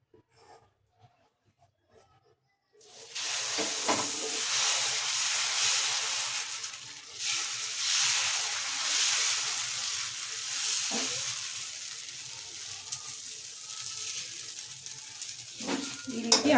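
Dosa batter spread onto a hot tawa over a lowered flame for masala dosa, a sudden loud, steady sizzle starting after a quiet moment and continuing with faint scraping and clinks of the spreading.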